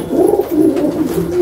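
A Saharanpuri pigeon coos in a steady, low, throaty murmur that runs continuously for over a second, close and fairly loud with no voices.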